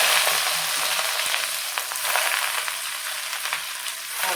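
Steady hot-oil sizzling with crackling pops, close and fairly loud, as taro leaves fry in a pan; no voices.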